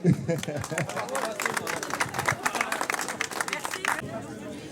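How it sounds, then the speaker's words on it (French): An outdoor crowd at a winter rowing regatta near Le Coudray-Montceaux applauds the crews, with dense clapping sustained for several seconds and a voice speaking at the start. "Bon, on peut les applaudir quand même, allez-y."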